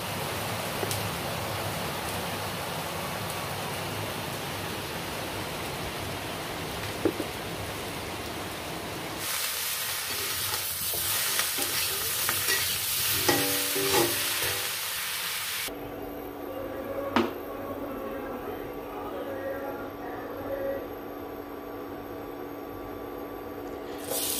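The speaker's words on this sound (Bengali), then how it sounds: "আর এখন হচ্ছে খুব জোরে বৃষ্টি পড়ছে সেই বৃষ্টিটা তোমাদের সাথে শেয়ার করছি" Heavy rain pours down outside in a steady, dense roar of broadband noise that shifts in tone a couple of times but never lets up, with no voices.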